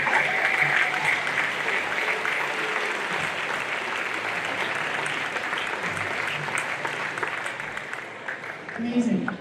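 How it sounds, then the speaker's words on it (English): Audience at a fall high school band concert applauds steadily, a thick continuous patter of many hands filling the room, with voices and cheers mixed in and a brief swell near the end. "can we get a round of applause for the OASD?"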